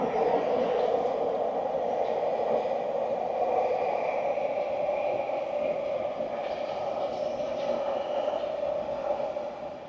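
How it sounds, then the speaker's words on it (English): A Taiwan High-Speed Rail train passes along a viaduct at nearly 300 km/h, giving a steady, loud rushing rumble with a mid-pitched drone that fades slightly toward the end. "there is a train, high-speed train, just passing by"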